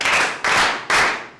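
A physics class claps for a student during a lesson on optical instruments. Three loud, evenly spaced bursts of unison clapping sound close by, with no talk over them.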